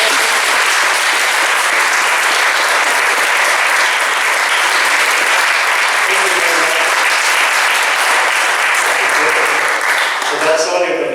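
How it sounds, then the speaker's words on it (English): An audience at a church centre's official opening applauds loudly and continuously, a dense wash of clapping that tapers slightly at the end. "can I give a round of applause to James Kitchen and her staff, please?"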